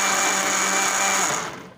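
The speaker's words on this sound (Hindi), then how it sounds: "अब इसको मिक्सी इसको चला रहे हैं" A kitchen mixer-grinder blending a drink, running as a steady loud whir that winds down at the end, heard close and alone.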